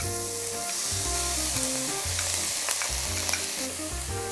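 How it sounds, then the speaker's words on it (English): Grated onions hit hot oil with curry leaves for a fish curry, giving a loud, continuous close sizzle and crackle with no talking. "Now to this we will add in our grated onions."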